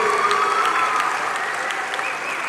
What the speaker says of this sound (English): A huge round of applause to this